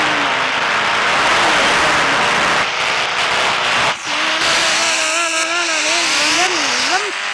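A car drives in an Indian driving video game, its engine a loud, continuous synthetic drone whose pitch slides up and down as it speeds and slows, with a brief dip partway through.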